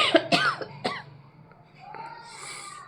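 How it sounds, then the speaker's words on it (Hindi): A woman with a cold coughs several times in quick, harsh bursts close to the microphone, followed by quieter throat sounds and faint breathing in a calm room. "बहुत ख़राब है, खांसी हो रही है"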